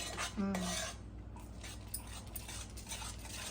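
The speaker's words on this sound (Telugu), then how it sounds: "ఇది మాత్రం అలా మిక్స్ చేస్తూనే ఉండాలి." Spoon scraping and clinking against a pan while beetroot halwa is stirred in a home kitchen, soft and intermittent, with a brief dog whimper early on.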